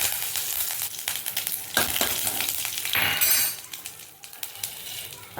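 Mustard seeds sizzle and crackle in hot peanut oil in a pan, with scattered sharp pops and light clinks over a steady frying hiss. The sound is close and fairly loud, and no one talks.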